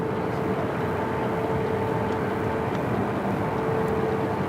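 An Airbus A380 jet at Sydney Airport, a loud, steady broadband roar with a faint tonal whine that holds evenly throughout, heard nearby.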